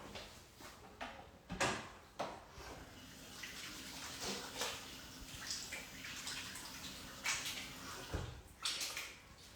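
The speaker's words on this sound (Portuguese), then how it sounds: "Eu vou lavar minhas mãos pra gente poder começar." Water runs steadily from a tap while hands are washed, fairly quiet, with a few soft knocks and clunks mixed in.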